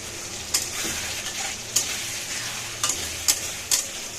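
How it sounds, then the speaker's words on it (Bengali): Potatoes frying in oil in a pan for a Bengali silver carp fish curry, a continuous soft sizzle broken by several sharp clinks and scrapes of a spatula stirring. "আপনার আলু এখন দিচ্ছি, একটু ভালো করে ভেজে নিয়ে এর সাথে মশলা অ্যাড করে দেবো"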